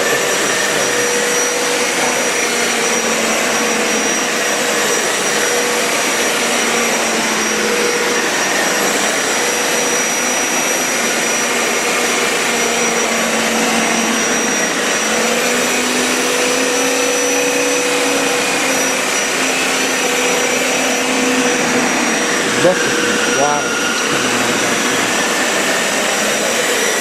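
A Hoover Power Scrub Elite Pet or Bissell ProHeat 2X Revolution Pet Pro carpet cleaner runs on wet carpet, giving a loud, continuous close-up motor whine and suction roar that holds steady throughout with only slight pitch shifts.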